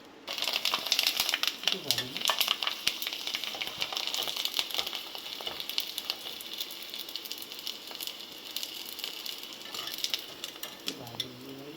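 Sun-dried wheat kurdai frying in hot oil make a close, crackling, popping sizzle that runs throughout, with a voice heard briefly over it.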